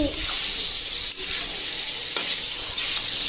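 Meat frying in a pan while being stirred, a loud close hiss of sizzling fat with scraping swells as the spoon moves through it.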